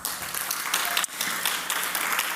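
An awards-gala audience applauds for Ruchira Gupta, a full, steady round of clapping lasting a couple of seconds with a brief dip midway.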